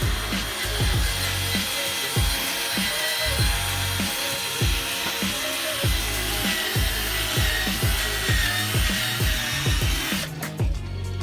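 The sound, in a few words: power drill with sanding wheel sanding a car headlight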